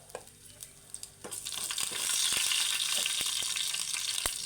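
Mustard seeds drop into hot oil in a pan for a pasta tempering; after a few quiet knocks, a loud, dense sizzle swells up and holds, peppered with sharp popping crackles close by.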